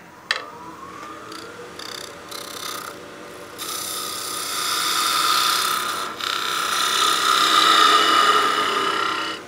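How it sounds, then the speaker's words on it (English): A skew chisel makes slicing cuts on wood spinning on a lathe, turning a birdhouse ornament finial, heard as a close, rising scraping rasp over the lathe's hum, with a sharp tap near the start and brief breaks between passes. "This is a good slicing cut with the skew."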